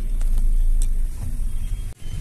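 A car engine rumbles low and steady from inside the cabin while riding in rainy weather, with a few faint clicks and a brief dip near the end.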